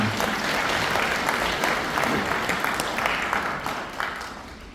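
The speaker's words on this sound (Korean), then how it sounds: "이희천 교수님께 다시 한번 박수 부탁드리겠습니다." A lecture audience applauding a professor at a hometown association talk, a full, loud burst of many people clapping that holds steady and then slowly eases off, with some low murmur beneath the claps.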